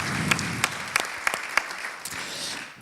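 An audience applauds Hervé Casterman at a panel discussion on the COP 21 climate conference, with scattered sharp claps over a steady wash that fades toward the end.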